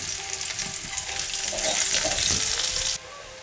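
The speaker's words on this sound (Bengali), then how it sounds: "এবার এর মধ্যে দিচ্ছি একটা পেঁয়াজ কুচোনো" Chopped onion hitting hot oil with a bay leaf in the pan, a sharp, loud sizzle with a quick stir that cuts off abruptly to a quieter hiss.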